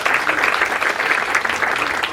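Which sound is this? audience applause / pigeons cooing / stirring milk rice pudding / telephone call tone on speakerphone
audience applause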